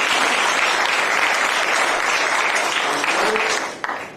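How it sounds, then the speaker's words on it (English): A town hall audience applauds loudly and continuously, a dense wash of clapping that holds steady before tapering off near the end. "Can we give a round of applause?"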